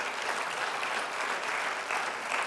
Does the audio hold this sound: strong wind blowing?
no